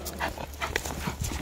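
A dog gives a few short, sharp barks at moderate distance, scattered irregularly over a brief stretch with some background noise.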